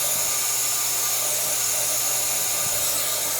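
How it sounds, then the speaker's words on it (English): Compressed air from an air hose hisses in a loud, steady blast while clearing the PCV valve orifice on a Chevy Equinox 2.4 Ecotec engine, a continuous close rush with no talk. "Then I'll blow that out. There we go, we got an air hose."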